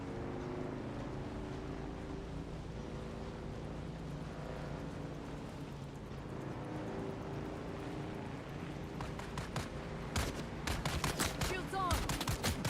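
Gunfire in Dune: Awakening, bursts of rapid shots crackling in the last few seconds over a constant low engine-like drone that fills the clip, with no talk.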